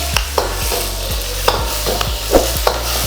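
Bay leaves, spice leaf, black peppercorns and stone flower tempering in hot ghee, a steady sizzle with a few sharp spatula scrapes and clinks against the pan, close and without voices.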